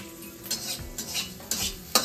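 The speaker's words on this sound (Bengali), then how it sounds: "বুনু চিংড়ি মাছ ফ্রাই করছে" Prawns fry in a pan while a utensil stirs and scrapes, a low sizzle under repeated metallic clinks and scrapes at a loose rhythm, close and quiet.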